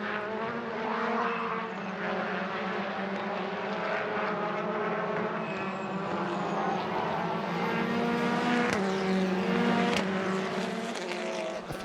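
TCR touring race cars roar around a greasy circuit, engines screaming loud and continuous as several cars pass close together with rising and falling revs, and no talking over them.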